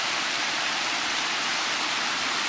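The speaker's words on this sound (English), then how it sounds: "This is the brook that babbles." Flowing mountain brook water rushes in a steady, close, even hiss with no breaks and no voices.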